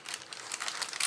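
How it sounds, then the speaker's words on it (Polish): Peanut butter dough pressed and kneaded by hand into a roasting pan lined with baking paper gives off close, soft crinkling and rustling of the paper in quick irregular pulses, with no talk. "Ugniatamy."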